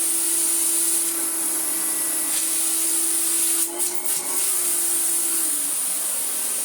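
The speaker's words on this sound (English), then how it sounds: "if we put the crevice tool on it on max, it would sound awful, purely just from the airflow" A 1985 Electrolux Z327 Sup'Air vacuum cleaner with the crevice tool fitted runs on max power, giving a steady, loud airflow hiss with a constant motor tone and brief dips in pitch partway through.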